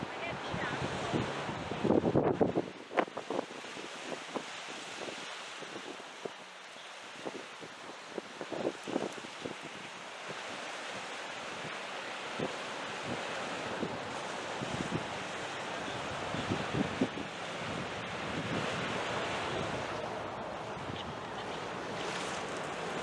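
Wind gusting across a bay where a cruise ship lies at anchor and a tender shuttles to shore, a steady broadband rush with buffeting on the microphone throughout, louder bumps early on.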